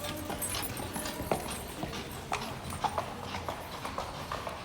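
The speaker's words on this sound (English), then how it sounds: "I hear the buggy behind me." Hooves of a horse-drawn buggy clip-clop on the ground in the ancient city of Petra, Jordan, in an uneven rhythm of clear knocks over outdoor ambience, fairly close.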